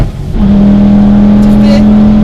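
A 415bhp Ford Focus ST with a forged engine accelerates hard in gear on a power run, its engine holding a loud, steady droning tone close up while someone talks over it.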